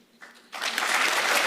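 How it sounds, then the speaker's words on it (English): Audience applause at an engineering conference in Africa breaks out after a faint opening, swelling into steady, dense clapping from a full room for about a second. "Can we give them the applause"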